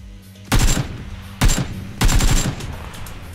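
Three loud bursts of rapid automatic gunfire in PUBG on PC, each a close, rattling volley of several shots, separated by short pauses with quieter game ambience between.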